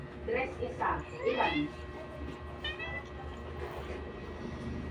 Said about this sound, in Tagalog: Yes, Kuting. What? Gusto mo ng food